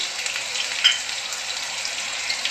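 Chopped onions, about a cup, frying in a pan for a Rayalaseema-style brinjal fry, giving a steady close hiss and sizzle throughout with a faint clink partway through.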